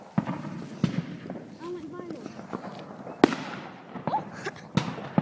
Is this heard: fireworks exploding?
yes